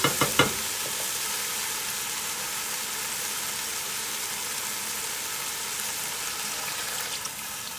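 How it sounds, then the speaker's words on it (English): Pancit bihon noodles sizzle loudly in a hot pan as sauce is poured in, a few sharp spits at the start giving way to a steady, dense frying hiss that carries on alone throughout. "Now I'm going to add the sauce."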